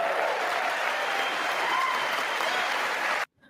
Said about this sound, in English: Do y'all see the cult clapping?